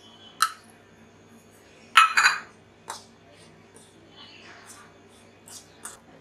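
A spoon stirs wheat flour and rice flour together in a bowl for chakli dough, giving a few scattered, quiet clinks and soft scrapes against the bowl with long gaps between them.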